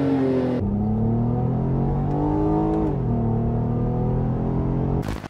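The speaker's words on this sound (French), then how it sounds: "tu te retrouves avec 240 chevaux dans une Velsatis boîte auto avec un bruit incroyable" A Renault Vel Satis with a 3.5-litre V6 and automatic gearbox revs up loudly and close, the engine note climbing steadily through two rising sweeps with a brief shift-like dip between, ending in a sharp burst.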